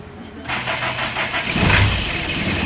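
A car engine cranks on its starter and catches, building into a steady, fairly loud running sound close by while people talk over it.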